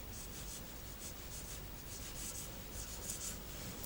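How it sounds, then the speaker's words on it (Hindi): Notes being written on a board during a biology lesson: continuous close scratching and rubbing strokes, soft and even, with no voices. "इसको मैं यहां लिख रहा हूं नीचे"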